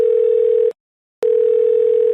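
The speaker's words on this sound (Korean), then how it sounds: "그럼 오늘 제가 궁금한 것도 통화를 한번 해보도록 하겠습니다." A loud, steady telephone ringback tone sounds while a call is being placed, two long tones broken by a half-second gap of silence.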